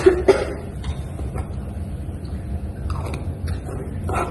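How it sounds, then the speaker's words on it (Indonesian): A woman coughs twice in quick succession during an effective cough exercise in a basic nursing practice session, close and sharp, followed by quiet room noise with faint movement. "di latihan terakhir Ibu bisa membatukannya selama 2 kali ya, Bu"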